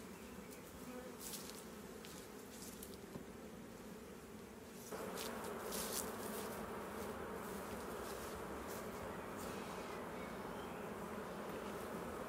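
Honey bees buzzing in an opened hive of a recently merged colony, a dense continuous hum of many insects close by that swells slightly louder partway through.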